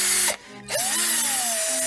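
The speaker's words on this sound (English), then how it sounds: "I gotta grab my power drill here" A battery power drill drives a screw, its motor whining loudly up close, cutting out briefly, then spinning back up with a rising and gently wavering pitch.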